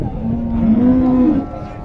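A dairy cow at a cattle market gives one long, loud, low moo that rises slightly and holds before fading, with market murmur underneath.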